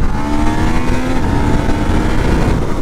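A 2019 Yamaha MT-09 motorcycle engine roars loudly and close up as it pulls through the gears, a dense, continuous rising drone with no speech over it.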